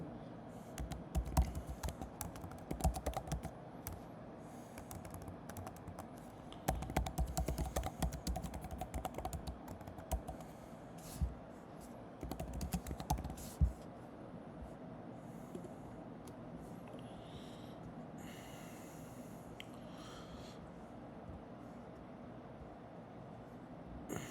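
Quick, uneven bursts of keystrokes on a computer keyboard come in clusters early on, then ease into sparse, quieter taps over a faint background hum. Nobody speaks.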